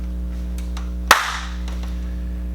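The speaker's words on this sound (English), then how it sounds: "I'm gonna clap and then we'll just wait a second" One sharp hand clap marking the start of a podcast recording, a single close, loud crack that decays quickly over a constant low electrical hum in an otherwise quiet room.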